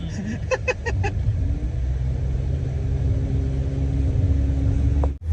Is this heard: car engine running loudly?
yes